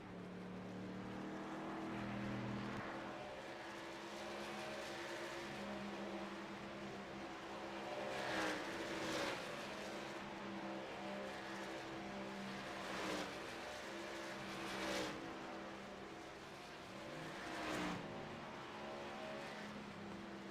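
Race truck engines at Darlington in the iRacing game, a sustained droning whine with pitch rising and falling through shifts and corners, steady and moderately loud, no talk.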